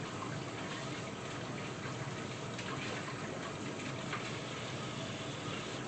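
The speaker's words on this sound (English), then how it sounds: "let me wash my hands" A tap runs steadily while hands are washed at a kitchen sink, a constant close splashing rush of water with no break.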